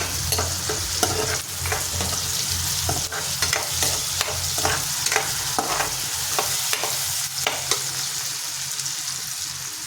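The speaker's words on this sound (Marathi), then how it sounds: "बघा कांदा कांदा टमाटर जिरे मोहरे हे सगळं मस्त असं भाजून घ्यायचं" Onion, tomato, cumin and mustard seeds fry in hot oil in a pan, giving a steady close sizzle broken by regular scraping stirs and small pops, with no voices.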